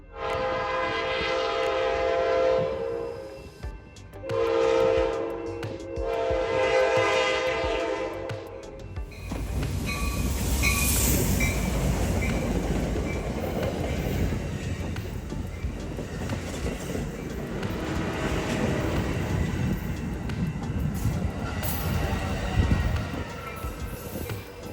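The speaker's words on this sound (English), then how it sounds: "comes Amtrak San Joaquins Train 711, led by F59 PHI number 2010, horn blaring all the way" An Amtrak San Joaquins passenger train led by an F59PHI locomotive blares its horn in long, loud blasts, then rumbles and clatters past close by.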